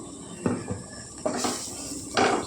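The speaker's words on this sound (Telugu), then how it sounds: "ఇప్పుడు మనం ఇందులో కారం వేసుకుందామండి చెంచానా వేసానండి కారం" A metal spoon clinking against a pan as chili powder goes into hot oil with fried onions while making okra buttermilk curry: three separate scraping clanks spaced about a second apart over a quiet frying hiss.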